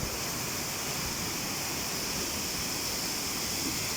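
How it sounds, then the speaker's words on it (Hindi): Waterfall in Alanya, Turkey, a steady broadband rush of falling water that holds even and close for the whole stretch, with no voices over it. "तो ऐसी बेशुमार आबशारें बनती जाती हैं। जैसे ये है, ये देख लें।"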